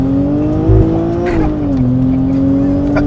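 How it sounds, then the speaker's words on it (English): A supercharged 2008 Infiniti G37s accelerating hard on cold tires, its engine note climbing loud and close in a steady drone with a brief tire chirp. "you could tell them tires were cold because they lit tires up"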